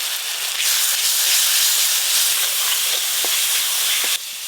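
Loud, steady sizzling hiss of spice masala as a little water is poured into the hot pan, a broad continuous steam rush that cuts off abruptly near the end.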